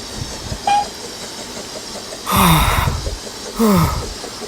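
Two short train whistle blasts sound a second apart, with a faint earlier toot and a low rumbling hiss underneath.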